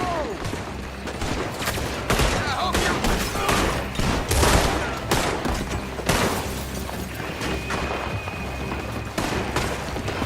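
Rapid bursts of gunfire in the Western video game Red Dead Redemption 2, sharp cracks and booming shots overlapping in a loud, sustained exchange, with occasional voices among the shooting.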